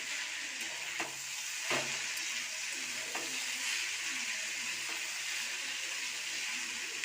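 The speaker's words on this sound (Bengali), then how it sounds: "শাকটা দেওয়া হয়ে গেছে, এবার নাড়িয়ে নেব।" Kulekhara greens fry in a pan, giving a steady, faint hissing sizzle. A spatula stirs them with a few soft scrapes and taps spread through the sizzle. No voices.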